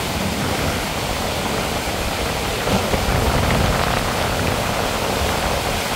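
Water rushing from the Magat River irrigation dam system, a loud, dense, continuous roar of churning flow without pause, close and unbroken for the whole stretch.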